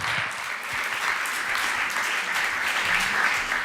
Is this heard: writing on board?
no